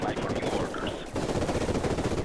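Rapid gunfire bursts from a video game shooter, dense and continuous throughout with crackling shots layered over a low rumble, loud and close, with a brief dip near the middle before the firing resumes.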